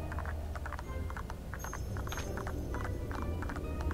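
A horse clip-clops steadily under a rider in the video game Disney Infinity, its hoofbeats regular and fairly close, with a faint jingle and game ambience behind them.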